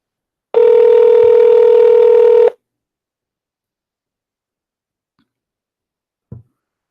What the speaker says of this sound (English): Let us call her again.